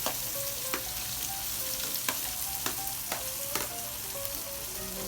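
Onions and chili frying together in a pan for prawn fried rice, a steady close sizzle with a few sharp stirring taps and clinks spaced through it.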